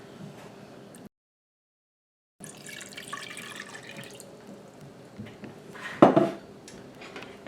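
Water pours into a pot of lower-carb taco soup with beef bouillon as a steady splashing rush, and a sharp clink of metal rings out near the end.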